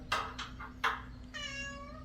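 A cat meows indoors during wiring work on a house's main floor; two or three short, close cries are followed by a longer, drawn-out tonal meow.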